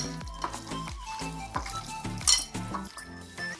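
Chicken pieces being hand-mixed with salt in a bowl for KFC-style popcorn chicken: a steady run of soft squelching and light clinking against the bowl, close and fairly loud, with no voices.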